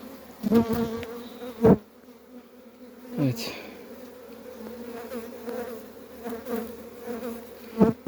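Honeybees, yellow and Carniolan together in a damp hive shaded under trees, hum continuously close by, with louder buzzing surges as individual bees fly past; a single brief word is spoken.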